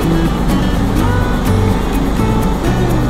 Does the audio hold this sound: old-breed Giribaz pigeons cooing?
no